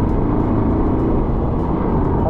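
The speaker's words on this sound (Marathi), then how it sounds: "हॅपीने पण गाडी चालू केली." A vehicle engine runs steadily at idle, a loud, continuous low rumble close by with no pauses.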